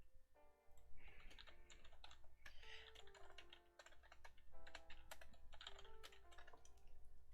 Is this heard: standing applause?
no